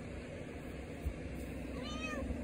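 A cat meows inside a camping car during a trip across Spain, a short, fairly faint rising mew near the end over steady road or engine noise.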